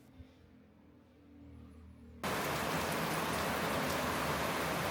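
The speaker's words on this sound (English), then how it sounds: "but today it suddenly poured down" Heavy rain suddenly starts pouring down, jumping from a quiet background to a loud, dense, steady roar that continues without a break, heard in the Philippines with no talking.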